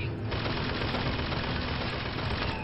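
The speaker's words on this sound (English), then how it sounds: "Some guy with a fucking machine gun." Sustained machine gun fire in the video game BioShock Infinite, a dense, continuous rattle of shots that runs unbroken and loud from start to finish.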